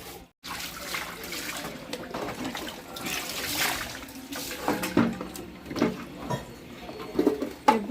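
Water rinses over a gas stove being washed, giving a steady wet trickle and patter with scattered clatter and splashes close by.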